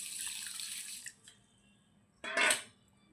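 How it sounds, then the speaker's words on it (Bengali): Water pours onto mixed lentils and dals in a bowl for washing, a brief splashing flow that stops, then a short second gush after a pause, close and fairly quiet. "জল দিয়ে দিচ্ছি"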